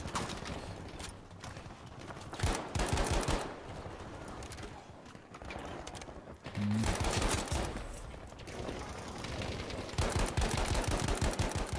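Rapid bursts of rifle gunfire from a fully upgraded Gewehr 1-5 in the Battlefield 5 video game, loud and dense with sharp repeated cracks through most of the stretch, with no voices.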